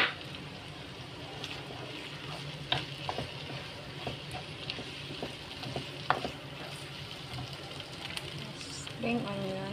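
Bean sprouts fry in a hot pan for mee goreng, giving a steady close sizzle with occasional stirring scrapes and clicks. Faint voices sit underneath.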